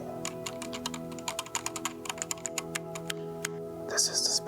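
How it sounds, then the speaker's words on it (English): Typing on a Night Fox mechanical keyboard fitted with Zelio 78g switches: a steady run of crisp, close keystrokes in an irregular rhythm, with a brief rapid flurry near the end and a voice talking underneath throughout. "This is my Night Fox keyboard."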